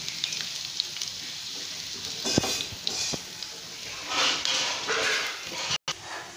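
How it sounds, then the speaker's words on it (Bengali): Stuffed okra (bhindi) fries gently in a pan on a low flame, giving a soft, uneven sizzle with a few light clinks and faint background noise. "এটাকে খুব ভালো করে ফ্রাই করতে হবে, একদম লো ফ্লেমে করতে হবে যাতে ভিতর থেকে ঢ্যাঁড়শগুলো ফ্রাই হয়"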